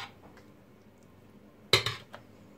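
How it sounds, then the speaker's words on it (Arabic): A small metal spoon pressing a chicken and vegetable filling into pastry cornets, heard as a couple of sharp clinks of metal against a dish after near silence. "ندير معلقه صغيره باش تقدروا تدكو بها داخل."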